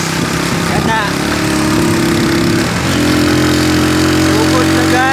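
A motorcycle engine labors steadily uphill on a rough dirt road in Ugbokan, Davao de Oro, loud and close, with a brief dip in pitch midway, and a voice talks over it.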